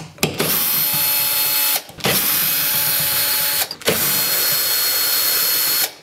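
A power tool spins out 10 mm mirror bolts on a 2015-2022 Chevrolet Colorado or GMC Canyon during a towing mirror install, three loud, close bursts of steady whirring, each cut off by a brief pause.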